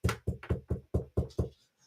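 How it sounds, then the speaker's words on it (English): Seven firm knocks on a door land in a quick, even rhythm, each a close, hollow thump, followed by a brief quiet tail. "Ten Hag knocks on his door."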